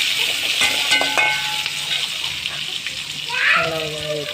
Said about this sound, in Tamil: போட்டு நல்லா வதங்கட்டும்.